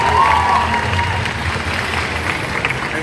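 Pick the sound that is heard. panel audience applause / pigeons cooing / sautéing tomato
panel audience applause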